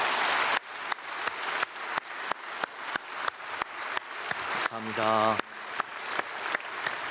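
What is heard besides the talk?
audience applause welcoming newly registered church members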